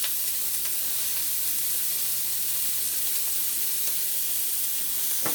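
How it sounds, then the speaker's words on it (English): Celery and carrots sauté in olive oil for shepherd's pie, giving a continuous close sizzle and crackle with faint hissing pops and no voices over it. "So this is the celery and carrots going in right now."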